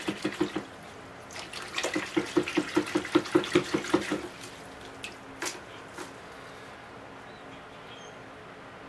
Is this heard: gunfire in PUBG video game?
no